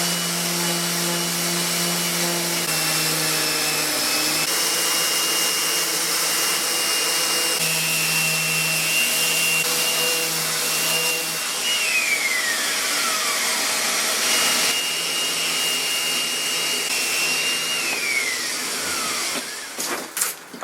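Power sanding on the handmade wooden arms of a tiny restored chair, a steady loud whirring drone running nearly unbroken with shifting tones before cutting off near the end.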